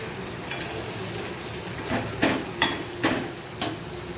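A potato and paneer curry with spices is stirred in a pan: a soft sizzle runs underneath while a spoon clacks against the pan four or five times in quick succession near the end.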